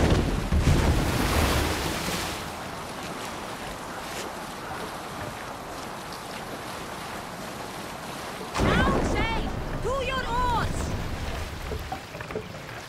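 A longship at sea in the game Assassin's Creed Valhalla, with wind and waves washing steadily around the boat and voices calling out over the water.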